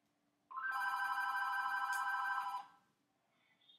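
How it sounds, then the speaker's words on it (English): A phone rings once in the background, a loud electronic trill lasting about two seconds, with no talking. "That's the phone."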